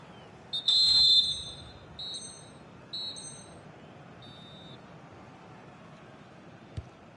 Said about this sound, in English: So the referee's whistle as the action is restarted